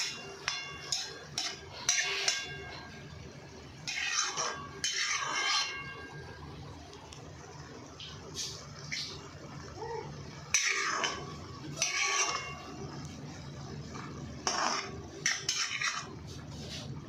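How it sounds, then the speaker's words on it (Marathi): Metallic clinks and scrapes as a lid is set over a pan of mung bean vegetable dish on the stove, several separate clanks spread through a quiet kitchen. "वरतून भाजी झाकण ठेवायची."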